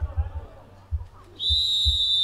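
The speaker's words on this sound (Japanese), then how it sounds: "ここでホイッスル。" Referee's whistle at an American football game, a long steady shrill blast that starts abruptly and holds to the end, loud and near, with crowd and field noise before it.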